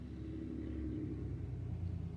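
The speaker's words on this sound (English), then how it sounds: "There's a truck by going by." A truck passes outdoors at sunset in winter, a steady low rumbling engine drone that holds at moderate level for a couple of seconds without a clear peak.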